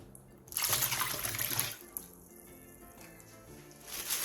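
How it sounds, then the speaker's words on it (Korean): Seasoned brine poured over young radish in a bowl for water kimchi, a splashing pour that starts suddenly and runs loud for about a second before easing into a quieter trickle that swells again at the end. "그 위에 열무를 올린 뒤 다시 열무 위에 양념물과 건더기들을 골고루 부어주세요"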